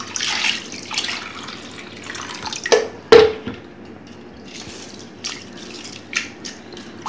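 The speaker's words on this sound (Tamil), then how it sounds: "இப்போ அது முழுகிற மாதிரி தண்ணியை நம்ம ஊற்றணும்." Water is poured over ragi flour in a kitchen to soak it for puttu, heard as soft, uneven splashes and trickles with one sharper splash partway through and quiet dripping around it.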